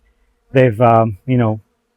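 Stingless bees at a meliponary hive buzz very close in a few short, loud bursts with brief gaps between them.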